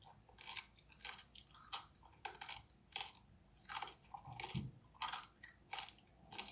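Crunchy bites and chewing of fresh strawberries in a close-miked ASMR recording, a rapid series of crisp, sharp crunches in an irregular rhythm, loud and near with no talking.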